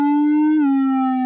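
A warbly synth lead built from a detuned square wave holds one sustained, bright buzzing note, with a small pitch bend partway through, heard alone and clean for about a second.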